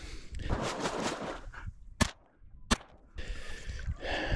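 Shotgun blasts during a duck hunt in the Idaho mountains: two sharp, loud reports about a second apart, breaking up steady rustling and wind-like outdoor noise.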